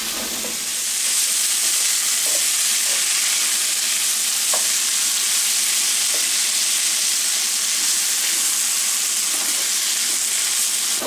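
Tomato meat sauce for spaghetti cooks down in a hot pan with a steady, close sizzle and bubbling hiss, broken by a few soft pops and occasional stirring clinks, with no talking.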